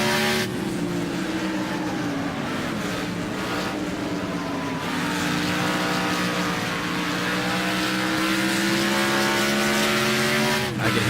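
Race car engines in the Wreckfest video game roar continuously, with steady high revving tones that shift pitch as the cars accelerate and ease off, loud and alone throughout.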